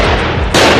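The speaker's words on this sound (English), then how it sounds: "A 4-month manhunt ended today in a hail of gunfire" Gunfire from a heavily armed police raid on an apartment in Molenbeek: a loud, sharp burst of shots cracks close by, with a second, harsher report in the final moment and no voices.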